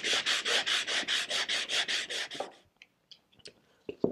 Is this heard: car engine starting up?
no